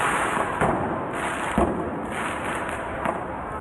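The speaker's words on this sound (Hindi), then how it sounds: "उन्होंने सड़क पर पटाखे छोड़ दिए।" Firecrackers set off on a street by protesters pop a few times at irregular intervals, fairly muffled under a steady background noise of the crowd and street.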